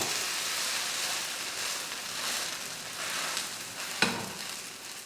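A wheat dosa sizzles steadily on a hot pan as it is turned over, a continuous close frying hiss with a sharp clatter of the flip near the end.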